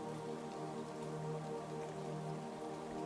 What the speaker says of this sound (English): a gentle rain began to fall, tapping rhythmically on the roof of the lake house